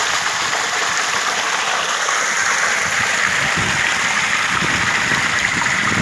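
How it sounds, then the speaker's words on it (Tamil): Water gushing from a farm pump set outdoors makes a loud, steady, hissing rush with no pauses, close by and alone without any voices. "தண்ணி சத்தமே கேட்குறது அருமையாக இருக்குது."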